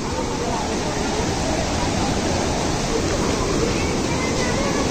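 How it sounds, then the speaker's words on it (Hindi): Floodwater of the swollen Gaula river rushing dangerously near the Gola dam in Haldwani, a dense, steady, loud roar of churning water filling the whole scene without pause. "ये देखो बिल्कुल बहुत ही खतरनाक तरीके से पानी बह रहा है यहाँ पर"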